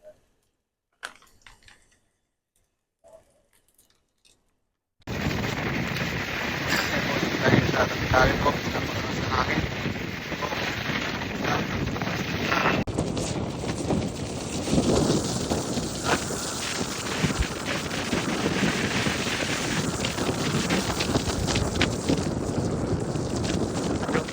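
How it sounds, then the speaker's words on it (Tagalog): Strong wind buffets the microphone outdoors with a heavy, constant rumbling roar that starts abruptly after a few seconds of near silence and carries on loud and unbroken to the end. "napakalakas ng hangin"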